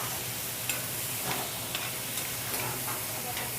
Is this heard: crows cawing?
no